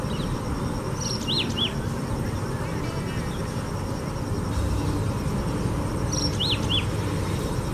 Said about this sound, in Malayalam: കിളികളുടെ കലപിലയെല്ലാം കേട്ട് ഇവിടെ ഇരുന്ന സമയം പോയതറിഞ്ഞില്ല